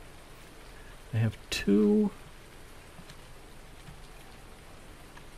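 Steady, even rainfall in the Farming Simulator 19 video game on the Felsbrunn map on PS4, a continuous soft hiss throughout with someone briefly speaking over it.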